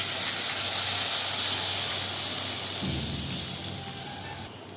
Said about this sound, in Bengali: এই যে আমার ঝোলটা ফুটে উঠেছে,